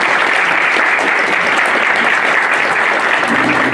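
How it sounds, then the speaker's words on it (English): Loud, continuous audience applause greets the two town moderator candidates at a local debate, a thick, even roar of clapping throughout with no voices rising above it. "round of applause, please"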